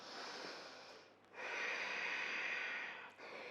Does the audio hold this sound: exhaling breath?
yes